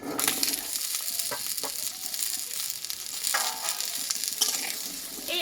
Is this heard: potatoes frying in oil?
yes